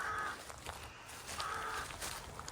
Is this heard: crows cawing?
yes